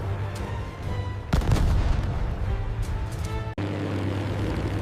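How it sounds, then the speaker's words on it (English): A low droning roar of propeller airplanes overhead, joined by a heavy boom and rumbling blasts, loud and continuous with no talking. "Do you hear that? Planes! Americans' planes!"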